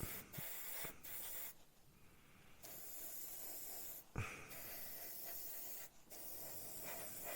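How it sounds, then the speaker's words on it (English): Paint sprayed into the doors of a model Oshkosh truck cab interior, a fine airy hiss in several bursts of a second or two, separated by short pauses, close and fairly quiet. "Just spray in the doors"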